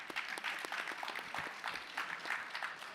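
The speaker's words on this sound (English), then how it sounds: "Clap it up." Brief, moderately loud clapping from the audience at a fintech industry talk, a steady patter of many hands lasting a few seconds.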